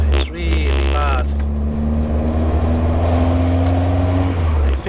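Peugeot 205 GTi Mi16 race car engine held at light throttle, a loud steady close drone with a brief rising rev at the start, someone speaking over it early on.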